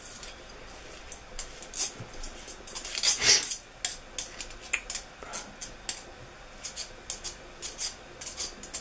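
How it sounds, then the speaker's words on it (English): A knife repeatedly pokes through oatmeal and raisin cookie dough, giving a string of quick close taps and scrapes in an uneven rhythm, with one louder rustling scrape midway; no voices. "probably better to use a knife. Just to poke it all through."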